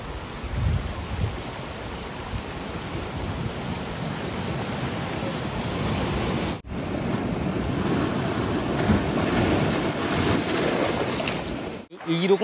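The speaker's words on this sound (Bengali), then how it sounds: "সমুদ্রের স্রোত" Sea waves break and wash over a steep rocky beach below Cabo de Rama fort in South Goa, a continuous loud roar of surf with swelling surges and brief dropouts.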